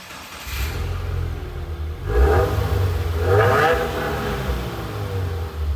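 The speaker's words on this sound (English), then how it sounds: "Dual exhaust pipes is just what this WRX needs. Nice and loud when you start this thing up too." A 2021 Subaru WRX with a dual exhaust fires up and rumbles close by, its low exhaust note swelling into two revving surges before settling back to a steady idle.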